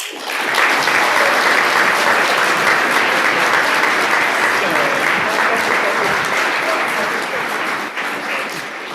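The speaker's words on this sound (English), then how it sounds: "Let's give one warm round of applause for all of our speakers" A large school audience gives sustained applause for senior student speakers at an upper school assembly, loud and dense from start to finish, tapering slightly near the end.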